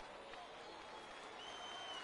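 A virtual stadium crowd in the baseball game MLB The Show 19 gives a steady, broad roar of cheering and applause for a full 3-2 count, quiet and distant-sounding, holding level throughout.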